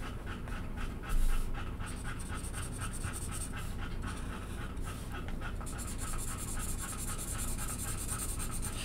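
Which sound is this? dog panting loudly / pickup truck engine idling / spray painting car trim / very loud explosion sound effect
dog panting loudly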